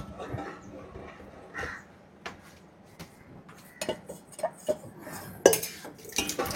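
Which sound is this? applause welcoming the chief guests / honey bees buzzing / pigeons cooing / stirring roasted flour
stirring roasted flour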